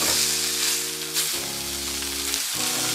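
A New York strip steak fries fat side down in a hot pan, giving a loud, steady, close sizzle with a low electric-like hum running underneath throughout.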